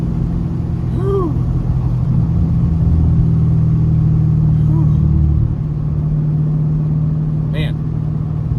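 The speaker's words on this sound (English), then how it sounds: "the sound of the supercharger, and then it just keeps pulling" A supercharged Ford Shelby GT500 with a VMP blower making about 708 wheel horsepower pulls hard under acceleration, giving a loud, steady engine drone and rumble heard from inside the car, with a few brief sounds over it.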